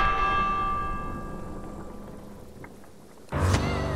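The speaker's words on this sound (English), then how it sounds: "Time to ring the bell." A bell rings in the video game Minecraft Dungeons, sustained metallic tones slowly fading, then cut by a sudden loud burst near the end.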